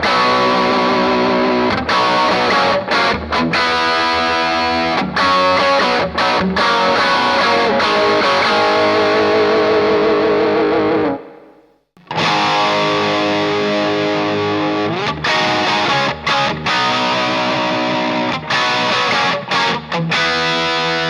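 Distorted electric guitar played through a Marshall SL5 amp in its 5-watt mode and a Marshall Studio Jubilee, rock chords and riffs ringing loud and continuous, with a brief drop to near silence around the midpoint before the playing resumes.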